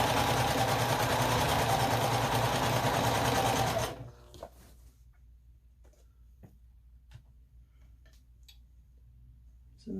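A sewing machine runs loud and steady for about four seconds while stitching a scrappy string quilt, then stops, leaving a quiet room with a few faint clicks.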